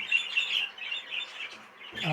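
Budgies in a cage give a few quick, faint chirps and warbling tweets, ending with a brief lower sound.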